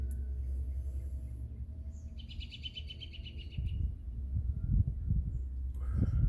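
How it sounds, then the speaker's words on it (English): Bright bird chirps repeat in a short burst over a steady low rumble of wind, with gusts swelling louder toward the end, outdoors on a porch in western Pennsylvania. "the wind is blowing and the birds are chirping, so spring is on its way"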